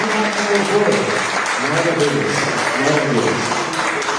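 Congregation applauding during a church service, a steady wash of clapping throughout while a voice speaks over it.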